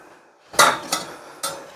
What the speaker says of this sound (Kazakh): осылай турағанымызды мына ыдысымызға саламыз